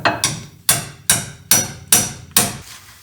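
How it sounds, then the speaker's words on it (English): A hammer strikes a socket to drive a steering rack bushing out of a 3rd-generation Toyota 4Runner, giving seven sharp metallic blows at a steady pace, each ringing briefly before the next, close and loud with no talking. "I'm just gonna try it with a hammer and a socket, and should come out."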